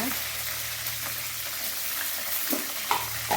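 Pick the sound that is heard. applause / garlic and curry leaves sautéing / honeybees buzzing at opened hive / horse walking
garlic and curry leaves sautéing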